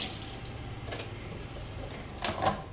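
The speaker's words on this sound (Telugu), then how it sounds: "ఇప్పుడైతే కొద్దిగా వాటర్ వేద్దాము" Water splashing and trickling in short bursts as it is added to coconut chutney ingredients, with a louder pour near the end over a faint background hum.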